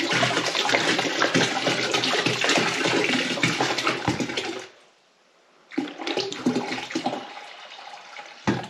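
Sanitizer solution sloshes and splashes vigorously inside mead-making equipment, a loud, close, churning gush that drops to near silence for about a second and then resumes.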